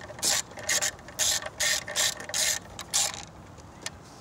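A ratchet tightens a spark plug on a Chevy Cobalt, sounding as a run of quick, close clicking bursts in an uneven rhythm, with each stroke a short buzz of pawl clicks.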